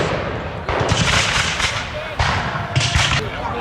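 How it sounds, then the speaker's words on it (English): Revolutionary War reenactment cannon fire from British artillery booms in a few heavy, rumbling blasts outdoors, with crowd noise and talk in the background. "Now the British artillery has opened up."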